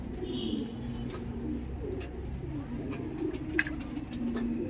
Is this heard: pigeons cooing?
yes